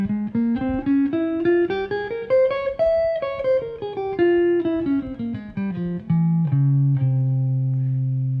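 A Mixolydian flat 9 flat 13 scale, the fifth mode of harmonic minor, played over a dominant chord: a single melodic line steps up and back down, then settles into held low notes, loud and clear with no talking.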